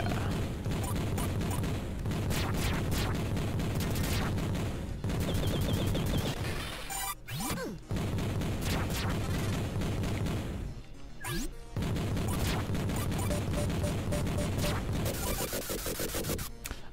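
Rapid video-game gunfire from Vectorman, dense repeated shots and mechanical clanks filling most of the stretch, loud and continuous with two brief gaps, no talk.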